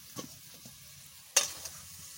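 Kundru, or ivy gourd, frying in a pan, giving a faint steady sizzle broken by a few stirring scrapes, with one sharp clink of the spatula midway.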